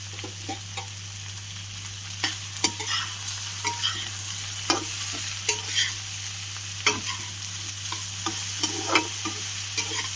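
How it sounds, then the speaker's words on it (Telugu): Okra pieces being stirred in oil in a frying pan, a steady low sizzle broken by repeated scraping and clinking strokes of a utensil against the pan, close and alone. "సో ఇలా కలుపుకోవాలి బెండకాయలు. ఆయిల్ అంతా బెండకాయ ముక్కలకి పట్టేటట్లుగా మనం కలుపుకోవాలి."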